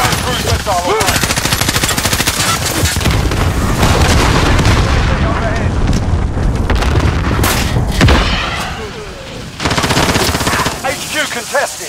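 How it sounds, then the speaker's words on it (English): Heavy combat in Call of Duty Warzone during a cruise missile strike: rapid machine-gun bursts and booming blasts roll on continuously and loudly, with a short lull before the firing resumes. "Cruise missile on right."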